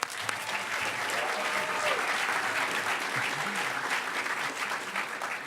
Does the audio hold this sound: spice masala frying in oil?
no